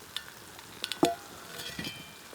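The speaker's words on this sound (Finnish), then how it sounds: "Vähän vieläkin niin kuin kiehuu toi rasva tossa" Fish sizzles in butter over a campfire, a soft crackling hiss broken by a few sharp clinks and pops from the pan, close and fairly quiet, with no voices.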